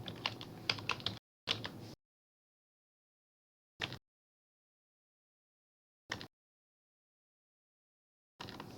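Short bursts of typing on a computer keyboard, a few quick keystroke clusters separated by long silent gaps, close and clear with no talking.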